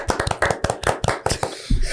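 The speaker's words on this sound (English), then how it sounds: "So HR needs a round of applause." Hand clapping during a loose podcast recording at the Big Shed Brewing Concern, a few sharp close claps in an uneven burst from a small group, brief and dry.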